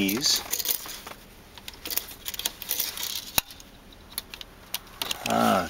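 Metal radio removal keys click and rattle as they are pushed into the slots of a VW Jetta car radio, a series of small, close metallic taps and scrapes with someone talking at points.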